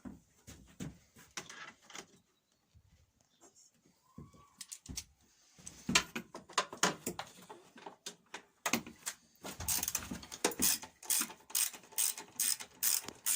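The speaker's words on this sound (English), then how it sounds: "I'm going to get the little socket." A socket ratchet clicks in quick bursts while loosening the fuel tank bolt on a Briggs and Stratton small engine, with short pauses and a faster, denser run of ratcheting toward the end.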